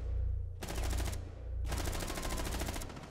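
Rapid automatic gunfire in Rainbow Six Siege, two long loud bursts of evenly spaced shots separated by a short pause, close and dominant with no talk.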